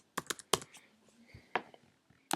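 A handful of sharp key clicks from a computer keyboard as a password is typed, close and quiet, in short uneven bursts with gaps between.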